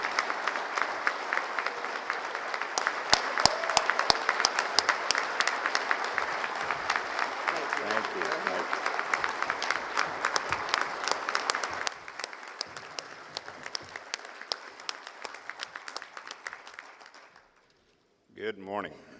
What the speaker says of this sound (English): let's give a warm applause for our national commander, Dennis Nixon.